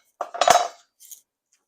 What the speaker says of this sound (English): let's go ahead and start slicing this chicken thigh up here.